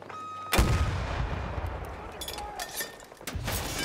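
A heavy explosive blast from a weapon in the video game Battlefield 2042 bursts in loudly after a brief lull and rolls into rumbling battle noise with further scattered reports, while a voice speaks over it.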